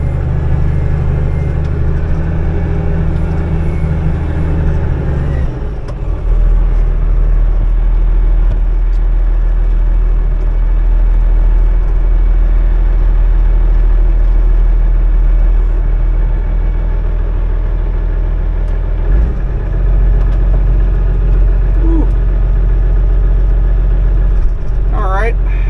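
A Komatsu WA180 wheel loader with 8100 hours and forks fitted runs close by with a steady low diesel drone while it lifts a Chevrolet C6 Corvette. Someone talks over the engine for much of the time.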